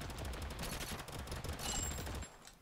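Rapid gunfire in the video game Totally Accurate Battlegrounds: a dense, steady fusillade of shots and crackle filling most of the clip before cutting off abruptly near the end.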